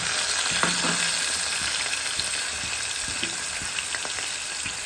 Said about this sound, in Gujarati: હવે આપણું તેલ છે તે ગરમ થઈ ગયું છે તો તેમાં આપણે જીરું નાખીશું ત્યારબાદ તેમાં હિંગ ઉમેરીશું અને ડુંગળી ઉમેરીશું